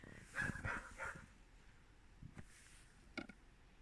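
A dog gives a few high whimpering yelps close by, followed by sparser, quieter whines and a short bark-like burst near the end, fairly faint overall.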